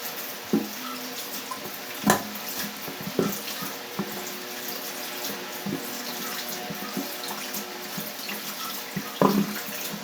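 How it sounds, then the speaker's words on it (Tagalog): Mangoes rinsed under a running kitchen tap: a steady stream of water splashes into a sink, with scattered louder knocks and splashes as the fruit is turned and handled, close and alone without talk. "Hugasan po natin sa bago balatan."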